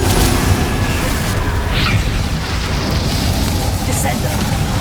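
A Confringo fire spell explodes in the Hogwarts Legacy video game, a dense, roaring broadband blast that fills the whole moment with a sustained loud rumble rather than a single short crack.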